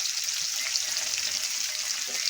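Brinjal and potato curry fries in a pan, a soft, continuous sizzle and crackle with faint stirring textures, steady and fairly quiet without any talking.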